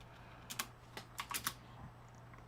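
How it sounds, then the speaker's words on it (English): Keys clatter on a computer keyboard in a few short bursts of close, crisp taps, with pauses between them and a steady low hum underneath. "I can type this out."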